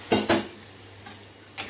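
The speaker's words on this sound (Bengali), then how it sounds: "একটুখানি কষিয়ে নিই।" Masala for chickpea ghugni is stirred in a pan, with two quick clinks of a spoon against metal, a pause, a softer knock and then another clink, over a faint low sizzle and no voices.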